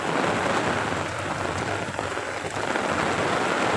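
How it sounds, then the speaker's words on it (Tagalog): Heavy rain with strong winds during a typhoon storm, a dense, continuous downpour hissing loudly and evenly throughout, with no voices. "Sabihin mo, ang lakas ng ulan."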